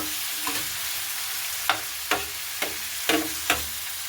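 Cauliflower stalks fry over low heat in a pan with no added water, a steady soft sizzle broken by several distinct scrapes and knocks of a spoon stirring at irregular intervals.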